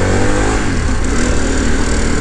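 A Harley-Davidson Pan America adventure motorcycle engine revs loudly and steadily up close, a continuous throaty drone with no pauses and no talking.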